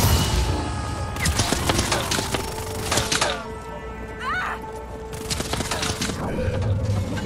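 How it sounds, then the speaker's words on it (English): Bursts of rapid automatic fire from a turret in the action game Just Cause 4, with sharp repeated shots, thuds and mechanical clatter over steady background game noise. "Oh, that is an automatic turret."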